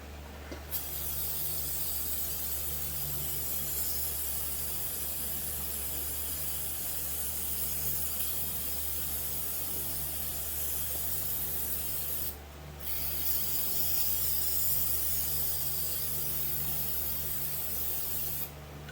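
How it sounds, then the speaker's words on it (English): Compressed air from a hose hisses steadily while blowing dust out of brake parts during a Husqvarna 372 XP chainsaw build, a continuous close rushing spray with one brief break and a faint underlying hum. "I'm gonna blow them out with the air hose"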